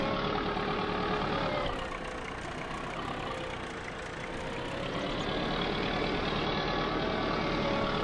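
Sonalika 60 tractor engine in Farming Simulator 22, a steady loud diesel drone with a slight dip and swell in revving, continuous and close with no speech.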